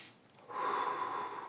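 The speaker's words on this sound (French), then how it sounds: "je prends des respirations conscientes" A single deep, deliberate breath, a quiet intake followed by a long, loud airy exhale close to the mic, taken as conscious breathing during a meditative moment.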